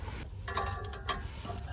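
Ratchet clicking at the bolts holding a Toyota Yaris catalytic converter and downpipe, a quiet mechanical rattle of pawl clicks with a sharper snap near the middle, fairly close with no voices.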